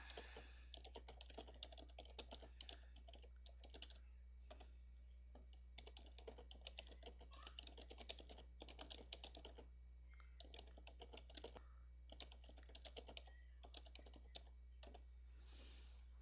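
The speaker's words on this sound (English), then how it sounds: "I'm going to just type it in here." Steady typing on a computer keyboard, quiet and close, a run of light clicking keystrokes with brief pauses over a low steady hum.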